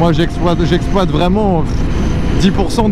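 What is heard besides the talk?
No distinct noise like a dog, phone or traffic.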